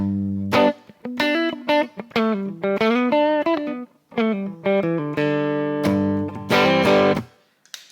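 Electric guitar with a clean, ringing tone through a blues pedalboard plays a melodic phrase of single notes and short chords, with brief pauses between figures.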